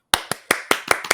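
Six sharp hand claps ring out one after another in a quick, slightly uneven rhythm, close and loud, a small manual round of applause with no talk over it.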